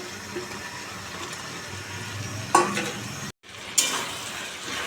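Potatoes go into a pan of frying home-style chicken curry and get stirred, giving a steady sizzle with scraping of a spoon against the pot and two sharper bursts of hissing midway, no talk.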